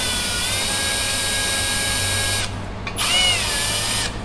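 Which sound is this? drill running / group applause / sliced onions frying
drill running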